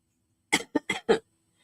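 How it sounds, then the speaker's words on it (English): Four quick coughs in a row, close and fairly soft, in an otherwise quiet room. "I still have my cough, so I will be coughing."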